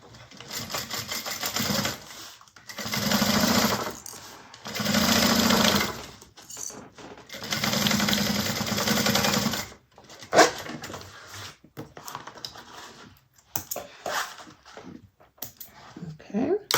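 A sewing machine stitches a quarter-inch seam along the back of a bag zipper in several sustained bursts of rapid whirring, separated by pauses filled with fabric handling and small clicks.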